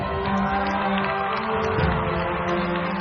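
A crowd at the IPPA Awards 2019 show cheers and applauds in a continuous, fairly even roar of clapping and voices, steady from start to finish.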